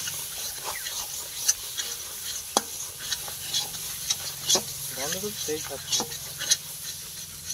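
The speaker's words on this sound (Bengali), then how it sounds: "এটাকে ভালো করে ভেজে নাও" A utensil scrapes and clacks against a hot pan in irregular strokes while food for paneer butter masala sizzles steadily underneath, with a brief voice in the background.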